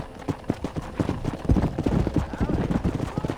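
Horse hooves galloping in the video game Red Dead Redemption, a quick rhythmic clip-clop of hoofbeats at moderate volume, steady and close, with a voice speaking over part of it.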